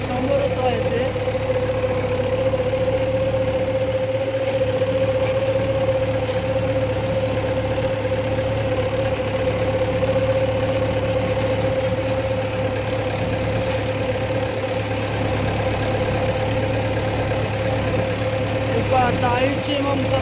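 A tractor engine idles close by on a farm field, a steady low rumble with a constant droning hum that runs unbroken throughout.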